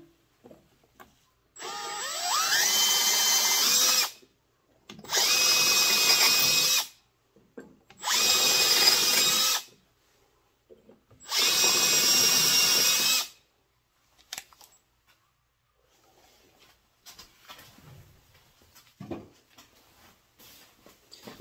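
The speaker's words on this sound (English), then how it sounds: "Now I'm going to pre-drill these holes, and then I'm going to put these screws in there." A power drill pre-drills holes and drives screws into a woodturning faceplate on a walnut blank, running in four loud, roughly two-second bursts separated by short pauses, followed by quieter handling noises.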